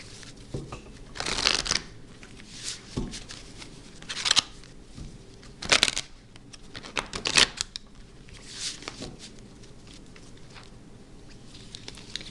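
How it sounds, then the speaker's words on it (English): Wisdom of the House of Night oracle cards being shuffled, several separate riffling bursts a second or two apart with quiet handling between, close and clear. "first shuffle Wisdom of the House of Night first and pick 3 cards"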